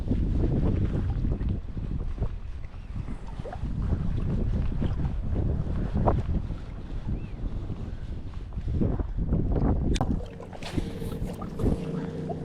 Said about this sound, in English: So that wind speed is picking up. North, northwest.